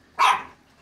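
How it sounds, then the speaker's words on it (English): A police dog lets out a single sharp, close bark that fades quickly into quiet. "Jack, the police dog is here."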